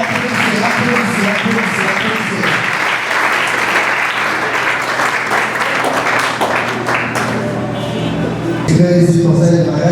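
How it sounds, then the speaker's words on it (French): Sustained loud applause from a church conference audience in Kinshasa, dense clapping filling the whole stretch with a swell near the end, with crowd voices mixed in. "Applaudissez, applaudissez, applaudissez."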